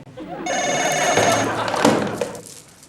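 A telephone bell rings loudly nearby in one sustained, trilling burst of about a second, then fades with a faint knock at the end.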